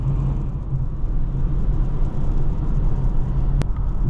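Polestar 2 Dual Motor AWD Performance electric car pulling away on a damp road, a steady loud low rumble and whir of tyres and drivetrain heard from inside the cabin, with a brief sharp click near the end.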